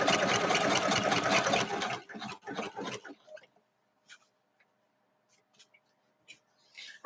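A sewing machine stitching a serpentine quilting stitch on a quilt runs in a loud close burst, then stops to a few stuttering pulses and scattered small clicks and handling noises in near silence.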